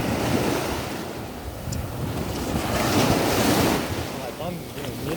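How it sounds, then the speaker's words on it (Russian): Black Sea waves break and wash continuously against the shore, a loud, broad surf roar mixed with heavy wind buffeting the microphone, with no one talking. "Здесь видишь, как волны разбиваются."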